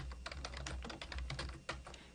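Quick, uneven keystrokes on a computer keyboard as a worksheet name is typed into a spreadsheet workbook, close and clear with no voices.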